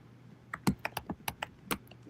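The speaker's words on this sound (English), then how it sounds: "He's typing, ladies and gentlemen, on the podcast." Keys clatter on a computer keyboard during a podcast recording, about ten quick irregular taps close to the microphone over a quiet background, with no talk.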